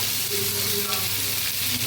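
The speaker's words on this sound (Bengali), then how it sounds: "এবার একে একে ফ্রাই করছি" Spice-coated pieces fry one by one in a pan, a dense, loud, continuous sizzle close by with faint stirring underneath and no talk.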